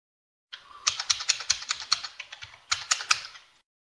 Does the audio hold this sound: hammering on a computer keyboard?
yes